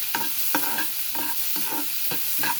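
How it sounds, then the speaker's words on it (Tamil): A small shallot is sautéed in a pan, the soft sizzle broken by about six distinct rhythmic scrapes of a spoon against the metal, close and with no voices. "ஒரு சின்ன வெங்காயம் மட்டும் அதை எடுத்து இதில் போட்டுருக்கேன். போட்டுட்டு நல்லா வதக்கணும்."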